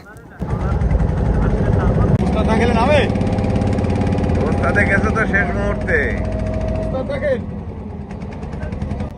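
Trawler boat engine roaring loudly and continuously as it strains to pull free from thick mud in the Sundarbans, a steady close drone with voices talking over it.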